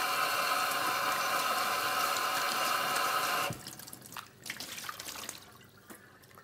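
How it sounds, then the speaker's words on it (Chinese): Dried corn silk is rinsed under running water from a tap, giving a steady, fairly loud splashing rush that cuts off after about three and a half seconds and leaves faint drips and handling noises. "这个玉米须因为晒很久，所以它有灰尘，你要洗干净。"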